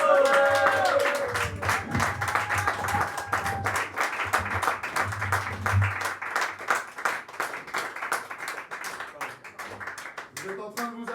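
A crowd at a slam poetry tournament applauds the poet Véro, with fast, dense clapping building up and continuing strongly across the whole stretch, and a voice with low hum heard near the start.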